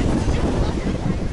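Strong wind buffeting the microphone on a Miami beach, a loud continuous low rumble with no break.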